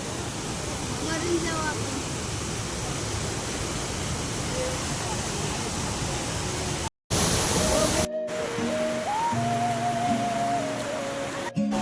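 Vasundhara waterfall at Bhandardara gives off a loud, steady roar of falling water that fills the whole scene. People talk over it, and a short break in the middle is followed by the roar going on again.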